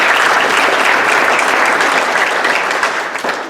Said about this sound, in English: Give them two big rounds of applause.